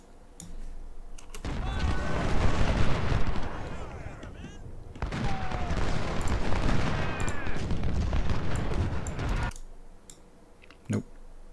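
Cannon and artillery fire thunder across a Civil War battlefield in the strategy game Ultimate General: Civil War, dense repeated booms and crackling volleys in two long loud bursts, separated by brief lulls.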